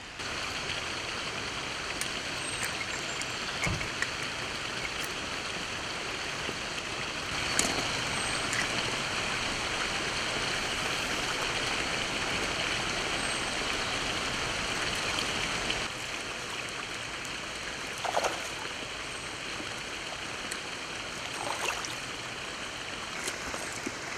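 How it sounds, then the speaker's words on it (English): Rough water churning below a waterfall at the edge of a clear lake, a steady, continuous rushing hiss that stays fairly loud and unbroken, with a few brief splashes standing out. "We're just on the edge of that rough water there."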